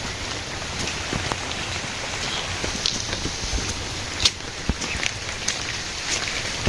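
Heavy rain pours steadily onto young seedlings beside a house, a dense continuous patter with scattered sharper drops striking nearby.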